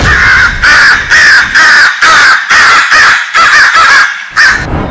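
A crow caws loudly and close, giving about a dozen harsh, evenly spaced calls in a steady rhythm with short gaps between them and no other sound.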